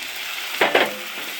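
Tomato paste drops into a hot pan of spiced cabbage, setting off two short bursts of sizzling over a steady frying hiss, close and fairly loud.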